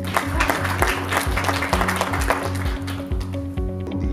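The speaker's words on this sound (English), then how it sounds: "Applause, please." An audience applauds at a cleantech investor event, a dense, steady wash of clapping over a low rhythmic music bed that thins out toward the end.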